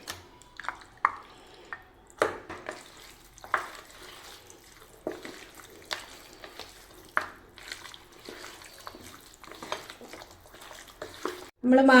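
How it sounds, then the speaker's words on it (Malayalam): Chicken pieces worked by hand into a spiced marinade of green chilli and pepper powder for a biryani, repeated squelching, sticky mixing strokes at close range, with a louder clatter at the very end. "നമുക്ക് ചിക്കൻ ഇട്ട് മാറിനേറ്റ് ചെയ്യാം"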